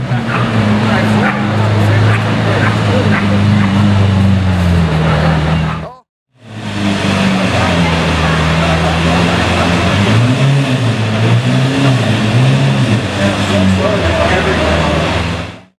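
Straight-piped Lamborghini Aventador SVJ tuned to 800 horsepower, two long loud engine runs with a deep rumbling, wavering rev, split by a brief cut, while people talk excitedly over it.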